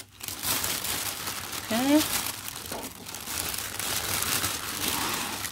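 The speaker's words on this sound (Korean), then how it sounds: "비닐종이에다가 넣어서" A thin plastic bag crinkles and rustles continuously at close range as a persimmon wrapped in plastic wrap is slipped inside for freezing, with a brief squeak partway through and a person speaking over it.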